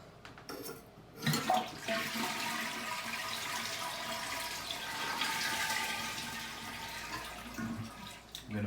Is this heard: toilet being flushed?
yes